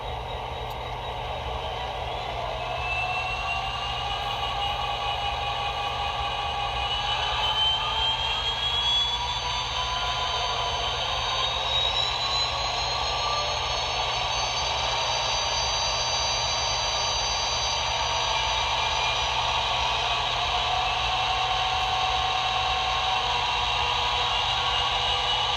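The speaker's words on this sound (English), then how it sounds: "we're sitting here at idle, and we'll start revving her up till we're screaming" An American Flyer KCS SD70ACe model locomotive's sound unit runs its diesel sound, climbing from idle into a steady, loud, whining roar over the whole stretch.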